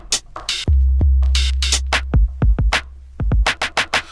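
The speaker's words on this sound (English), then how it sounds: "So it's a combination of a clap and a snare drum kind of." Software drum kit snare blended with a clap, sharp bright hits repeating in a groove jazz pattern over a deep sustained bass line, loud and close with no voices.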